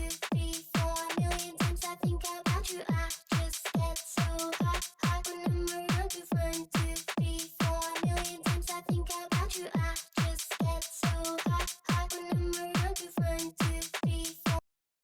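A programmed drum track with rim shots layered over the main beat plays a steady, tightly repeating pattern of sharp hits, loud and up front with no voices.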